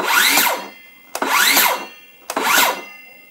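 A Craftsman V20 cordless circular saw spun up three times in short bursts, each a loud whirring rise and fall as the blade brakes, with clicks at each trigger pull and no voices.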